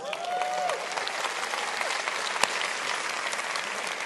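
Steady applause from an audience at a church gathering, clapping continuously for a couple as they are invited up front, with a brief tone of speech at the start.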